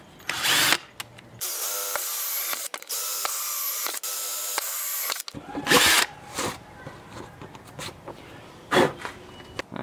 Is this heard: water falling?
no